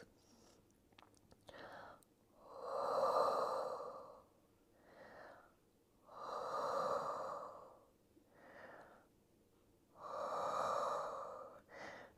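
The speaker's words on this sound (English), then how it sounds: "Taking some deep breaths." During a Pilates stretch, a person takes slow deep breaths close by, three long breathy inhales or exhales separated by shorter softer breaths at a calm, regular pace.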